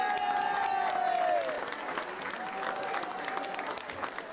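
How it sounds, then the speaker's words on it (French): Dense, steady applause from a crowd at the Martelange carnival enthronement during the mayor's speech, holding loud and even before easing slightly, with a high whistle-like tone early on. "Vous méritez nos applaudissements"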